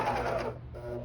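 A coverstitch sewing machine runs slowly, stitching binding onto rompers, giving a brief steady mechanical whir with faint rhythmic ticking that drops off for a moment partway through.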